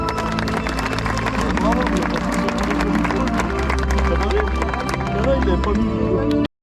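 At the Game Fair 2023, a crowd claps for a dog handler, sustained applause with some cheering and babble and people talking over it, cutting off abruptly at the end.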